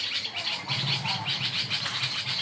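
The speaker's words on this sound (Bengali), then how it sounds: "দেখতেই পাচ্ছেন যে কী হাল্লা চিল্লা করছে পাখিগুলো" A flock of birds chirps and calls noisily in a dense, continuous chorus close by, with no talking.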